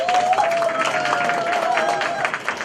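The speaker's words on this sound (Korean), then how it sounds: "여러분 큰 박수로 환영해 주시면 대단히 감사하겠습니다." Applause from a crowd welcoming a speaker at the opening of an election campaign office in Incheon, steady dense clapping throughout with a faint sustained tone and murmuring voices underneath.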